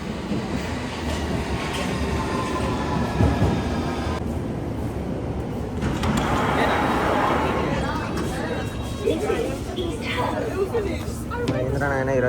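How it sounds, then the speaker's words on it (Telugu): A London Underground train pulls into the station with steady rumbling and rail noise throughout, while people on the platform talk and chatter around it. "మా ట్రైన్ అయితే వస్తుంది."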